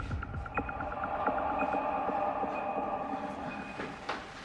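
A train runs along rails in a film scene, a steady rumbling roll with rhythmic clickety-clack wheel beats and a faint high squeal, continuous and close throughout.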